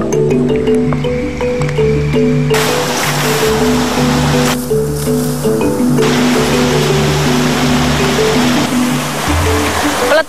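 A river stream flowing into deep pools, its steady rushing water loud and close throughout, with the wash growing fuller and more turbulent partway through and a low tonal hum running underneath.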